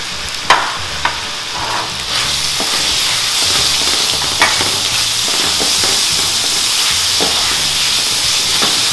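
Carrots stir-fry in hot oil for Vietnamese fried rice, with a steady sizzle and hiss broken by a few sharp clicks of a utensil against the pan, close and continuous.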